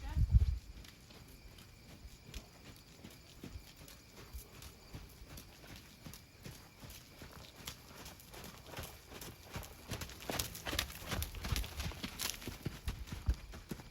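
Horse hooves trotting and cantering around an arena during a riding lesson, a steady rhythmic clip-clop that grows louder and quicker toward the end, with people talking now and then.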